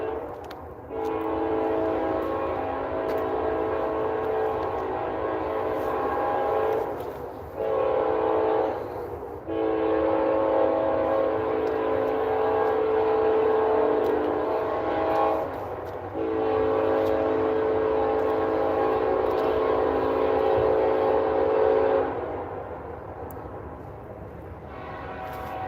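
Northbound freight train passing at night with its horn blaring in long, loud chords broken by short gaps, over a continuous rumble of rolling cars.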